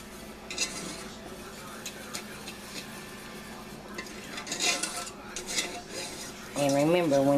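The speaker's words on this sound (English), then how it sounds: "I'm going to whisk it in." A whisk clinks and scrapes against a pot as heavy cream is beaten into a thick maple butter sauce, in irregular bursts of metallic rubbing, with a brief louder tonal clatter near the end.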